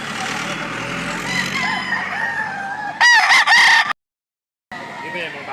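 A fighting rooster crows loudly and close by at a gamefowl sale in Lipa, Batangas, one full crow cutting over a busy backdrop of other chickens clucking and crowing.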